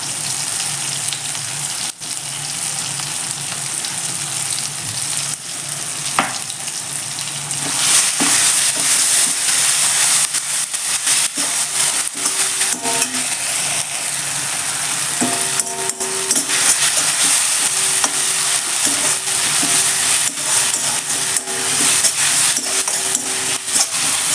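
Tomatoes sautéing with ginger garlic paste in a pan for mushroom gravy, a continuous close sizzle broken by scraping stirs and occasional clinks of the spoon against the pan, no talking.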